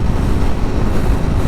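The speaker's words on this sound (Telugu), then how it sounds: "గాలి ఘోరంగా నెట్టేస్తుంది లెఫ్ట్ సైడ్కి" Strong wind buffeting a rider on a motorcycle on a highway, a loud continuous low rumble of rushing air against the microphone, with no voices.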